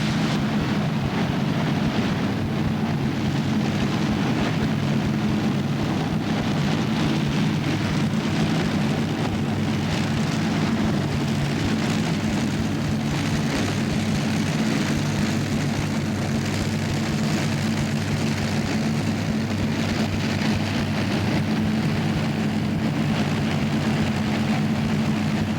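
The Seismic Express tractor-pull vehicle roars at a 1990 Super Pull event at the Cow Palace, a loud, sustained engine drone that holds steady for the whole stretch with no talk over it.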